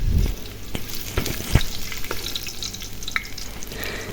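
Whole cumin, bay leaf, cardamom and chopped garlic sizzle steadily in hot oil for a hotel-style chicken biryani, with a few stirring scrapes and clicks close by and no voices.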